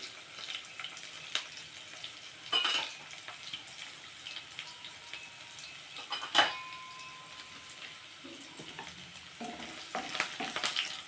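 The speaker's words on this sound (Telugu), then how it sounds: "నేను కొన్ని ధనియాలు వేస్తున్నానండి" Coriander seeds fry in a pan with a soft, continuous sizzle, broken by several sharper clatters and scrapes of stirring, close and moderately quiet.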